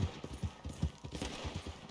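Rhythmic clip-clop of a horse's hooves trotting steadily in the video game Red Dead Redemption 2, quick repeated beats heard quietly on their own with no talk.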